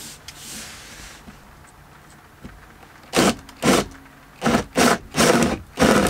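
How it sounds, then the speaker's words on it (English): A drill works into a wooden cabinet in a camper van, with quiet handling noise first and then five loud, rasping bursts in a row, each about half a second long, close to the microphone. "So the drill, it's working, it's very good"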